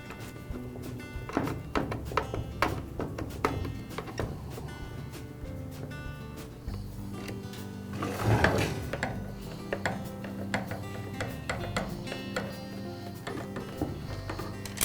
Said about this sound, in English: Now I'll remove the screws.